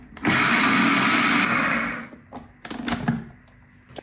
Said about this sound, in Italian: Chiudo e frullo per pochi secondi.